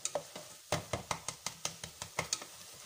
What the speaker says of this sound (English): I check how my beef is cooking and I'll continue mixing it very well.